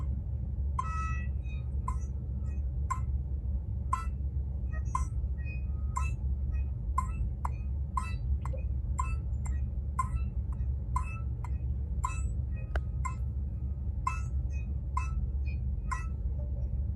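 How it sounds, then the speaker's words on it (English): A metronome set to 60 beats per minute clicks steadily once per second, crisp and close, while a low hum fills the background. "we're always going to have the metronome set for 60"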